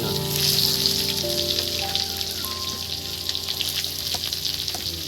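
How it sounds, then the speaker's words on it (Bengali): Chopped onions hitting hot oil and frying spices sizzle in a dense, continuous crackle, loud and close throughout with a faint tonal hum underneath. "এবার এর মধ্যে দিয়ে দিচ্ছি বন্ধুরা কেটে রাখা এই পেঁয়াজ"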